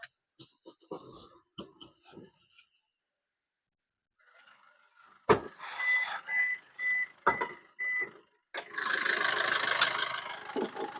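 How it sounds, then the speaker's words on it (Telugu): A Maruti Vitara Brezza ZDI Plus diesel: scattered clicks and quiet shuffling give way to short mechanical bursts, then a steady, close engine idle hum fills the final few seconds. "ఇంజిన్ అయితే నేను స్టార్ట్ అయితే చేసినాను."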